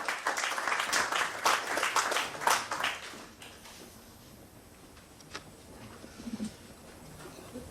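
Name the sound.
audience applause welcoming a speaker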